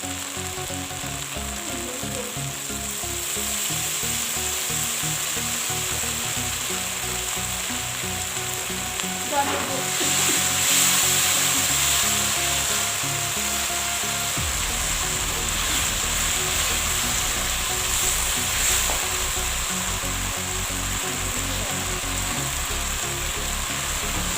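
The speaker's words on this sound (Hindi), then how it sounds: "चलिए वेजिटेबल्स यहाँ पे बहुत अच्छे तरीके से फ्राई हो चुकी हैं" Vegetables stir-fry in a pan with a steady, dense sizzle running throughout, broken by occasional stirring scrapes and a brief louder hiss midway, close and without talk.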